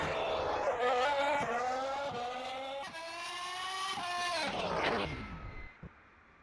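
Charles Leclerc's Formula 1 car screams past on track during Spanish Grand Prix qualifying, its loud engine note climbing through the gears and then dropping as it fades away.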